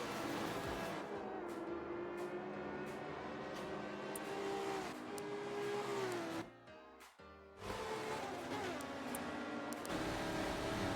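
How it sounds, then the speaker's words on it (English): Race cars in a Forza Motorsport 7 drag race at Circuit of the Americas, with a sustained loud engine drone that climbs in pitch, drops briefly near the end and then resumes. "This is going to be one wild drag race."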